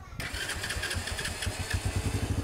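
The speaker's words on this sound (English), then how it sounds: "This bike did start really quick." Cheap Chinese motorcycle bought from Amazon, its engine catching quickly and settling into a loud, close, pulsing putter with steady low thumps, a voice speaking over it.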